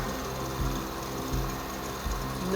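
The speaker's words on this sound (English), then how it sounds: "And there goes my drilling machine." A drilling machine boring a center hole in a wooden pendant blank on a lathe, a steady close motor whine with a low rhythmic thump recurring through the short stretch.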